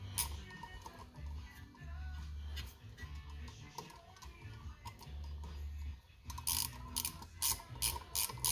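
Ratchet snugging down the coil of a flathead Briggs and Stratton small engine on a tiller, with quiet intermittent clicking under low background noise and a brisker burst of clicks near the end.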